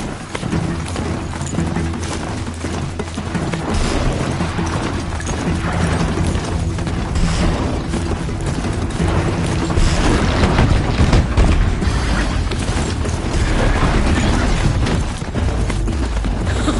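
A Strider, a horse-like machine in Horizon Zero Dawn, ridden at speed, giving a steady stream of rhythmic mechanical hoofbeats and clanks under a continuous rumbling bed, loud and unbroken throughout.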